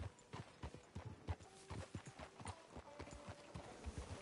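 Steady clip-clop of horse hooves at a walking pace in Red Dead Redemption 2, faint and somewhat distant, with a few soft thuds and background noise.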